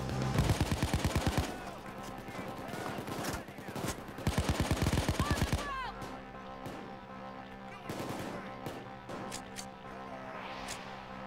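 Rapid machine-gun fire from a Nintendo Switch video game, long loud bursts followed by scattered shorter shots, with voices talking in between.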